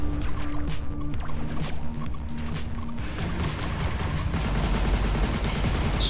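EMP weapon firing in the space shooter game Everspace 2, a dense electronic burst and crackling discharge over a sustained loud roar of combat and engine noise.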